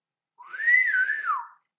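A single person whistles one clear, sustained tune-like note that rises, dips and falls again over about a second, close and alone with no other sounds around it.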